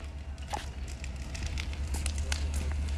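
A caravan and nearby trees burn near a railway station, giving a steady roar with scattered crackles and pops at moderate distance, with no talk.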